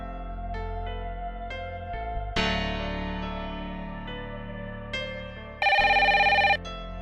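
Electronic telephone tones chime in a series of melodic beeps, ending with a bright, steady ringing burst; no talking.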